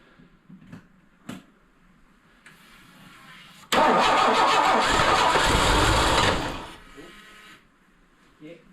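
A truck engine turns over after a few faint clicks and catches into a loud, roaring run that holds for a few seconds and then fades to a lower idle, with people talking nearby.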